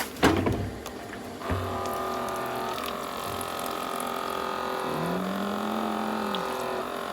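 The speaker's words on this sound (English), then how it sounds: "I'm gonna go add some water." Water pours into a pot and splashes steadily for several seconds while a brisket smokes on a Traeger grill, with a low humming drone and a brief clank near the start; no one speaks.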